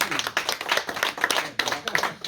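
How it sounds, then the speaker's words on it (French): Audience clapping after a literary conference at a book fair, brisk close hand claps with distinct individual strikes, a small crowd applauding at close range. "Vous pouvez applaudir Bruno aussi quand même."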